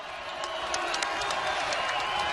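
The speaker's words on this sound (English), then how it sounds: "Moby Arena crowd up." A basketball crowd at Moby Arena roars steadily in a college game, a dense, sustained wash of cheering and clapping with no single voice standing out.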